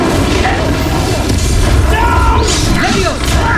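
A fire spell cast in the video game Hogwarts Legacy, a loud, dense roaring burst with heavy booming low end that holds steady across the whole moment, layered with crackling combat effects.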